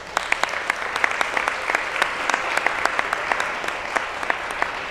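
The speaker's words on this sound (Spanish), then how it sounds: "¡Aplausos!" Applause breaks out at a press conference on child marriage prevention, a modest group clapping with distinct individual claps audible throughout, moderately loud and steady.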